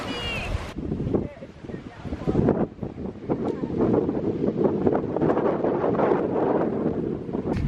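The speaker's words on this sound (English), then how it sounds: "It's a little windy." Wind gusts buffet the microphone continuously on a hilltop overlooking Grand Anse Beach in Grenada, a loud rumbling roar with a few gusty swells; a person speaks briefly over it early on.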